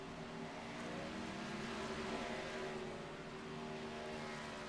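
Racing trucks in a Truck Series race at Auto Club Speedway in California roar past a trackside camera, a loud, steady engine drone with a slight swell in the middle.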